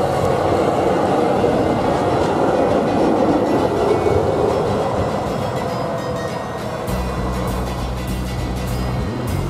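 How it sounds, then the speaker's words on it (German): A GT4 tram on Halberstadt's Line 1 rolls steadily past with a continuous low rumble and wheel noise on the rails, loud and close, shifting to a steadier motor hum toward the end. "Hier treffen wir auf einen GT4 auf der Linie 1 vom Friedhof in Richtung Hauptbahnhof."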